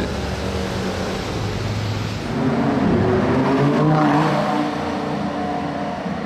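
A GT Speed car revs hard as it passes by, its engine note swelling loud near the middle and then fading away, with no talk over it.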